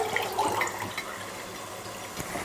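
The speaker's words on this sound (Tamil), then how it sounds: "இப்போ இதில் தண்ணி சேர்த்துடலாம்." Water is poured into a pot of chicken biryani with rice, a soft, low-level splashing and trickling pour that goes on steadily.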